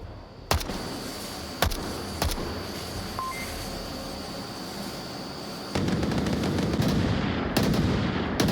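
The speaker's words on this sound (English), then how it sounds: "as soon as those gunshots fired" Gunshots in the VR shooter Onward during a competitive match: a few sharp isolated cracks over steady background noise, then a louder stretch with more shots near the end, no talking.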